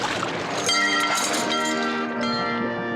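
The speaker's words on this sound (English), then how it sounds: "the ship's bell summons the guests" A ship's bell rings at an underwater wedding to call the guests, giving several resonant metallic strikes with long sustained ringing tones that overlap and slowly decay.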